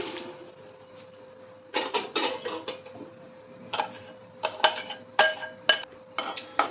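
Marinated raw mango for pickle poured straight into a kadai over a high gas flame. It comes in bursts of close metallic clanks and scrapes, like a spoon knocking a bowl against the pan, over a faint steady hum.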